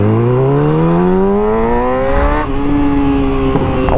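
A 2019 600cc sport motorcycle engine revs up loud and close, its pitch climbing smoothly, then holding and dipping before a sharper blip at the end.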